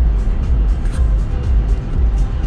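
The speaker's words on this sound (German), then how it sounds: "Und das Auto fährt völlig alleine." A Tesla Model 3 facelift driving itself on the road, heard from inside as a loud, steady low rumble of road and tyre noise that carries on without a break.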